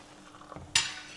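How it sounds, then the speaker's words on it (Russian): A spoon stirs thick borscht in a pot on the stove, a brief soft scrape followed by a louder wet sloshing swirl, close by with a low background hum. "Перемешиваем."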